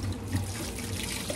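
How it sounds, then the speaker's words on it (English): Hot water is poured into a basin in a short, steady splashing trickle, close and continuous with small gurgling bursts, no voices present. "I'm so nervous about this hot water. Let's pour it in a little at a time."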